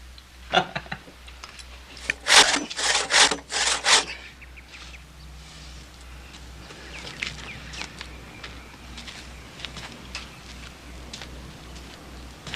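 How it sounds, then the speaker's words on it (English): A handsaw rasps through a piece of wood that cuts as hard as iron, with a few loud, rhythmic strokes in a burst at the start, then only faint scraping in a quiet room. "It looks like wood. It feels like wood. But it saws like iron."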